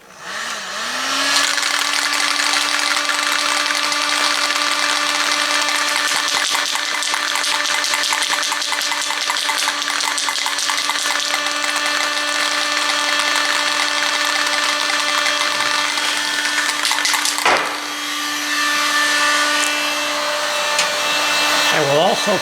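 A heat gun blowing hot air onto a paint can during interior work on a 1965 Chrysler 300 L, producing a loud, continuous steady whine and roar that runs almost uninterrupted, briefly dipping near the end.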